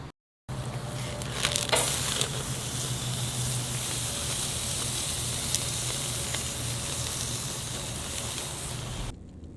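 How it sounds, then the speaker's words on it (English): A steak on a charcoal grill gives off a steady, broad sizzling hiss that holds evenly for several seconds, with a few sharper crackles near the start, close and without voices. "time to see if this grill can cook a mean steak"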